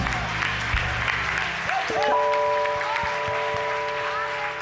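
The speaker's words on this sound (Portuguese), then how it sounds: "Dá uma salva de palmas forte para Jesus." Church congregation at a communion service claps together, a broad wash of applause filling the room while sustained keyboard tones enter partway through beneath it.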